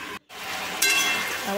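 Potato, poppy seed and cauliflower being stirred in a pan on the stove, giving a steady sizzle with a brief break and a scraping stir midway, close and fairly quiet.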